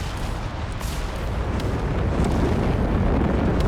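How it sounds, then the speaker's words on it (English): Stuka dive bomber barrage in the video game Company of Heroes 3, with heavy overlapping explosions pounding a town, loud and continuous rumbling blasts that build slightly over the few seconds. "Got another Stukas barrage."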